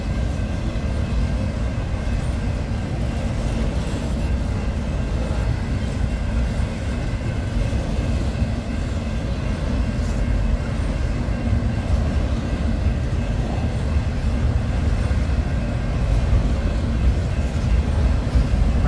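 Worn CSX locomotive leading a freight train in Rockwood, its steady low rumble and rolling rail noise loud and continuous throughout, with no talk.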